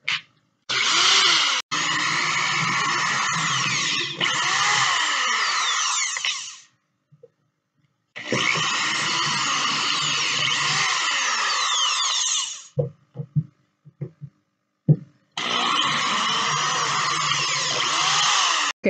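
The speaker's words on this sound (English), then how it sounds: "I'm going to go ahead and use my drill bit for pilot holes" A power drill whines in several bursts of a few seconds each while drilling pilot holes in wood, separated by silences and faint clicks, close and loud.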